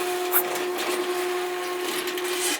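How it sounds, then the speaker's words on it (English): A noisy garage door is raised by its opener, producing a steady mechanical hum with a sustained whine and faint rattling through a short run that cuts off at the end. "All right, let's raise the door."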